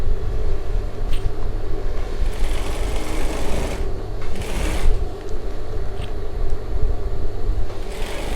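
Sewing machine stitching a long length of elastic onto a waistband, running in loud continuous bursts with brief pauses, close up and without talk.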